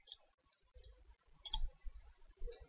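A computer mouse clicks repeatedly while styling an alignment in surveying design software: about half a dozen crisp, close clicks at irregular intervals over faint room noise.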